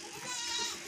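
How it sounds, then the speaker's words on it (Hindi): A goat bleats once in a drawn-out, wavering cry lasting under a second, fairly close and moderately loud over faint background. "ये बकरी है हैवी बकरी"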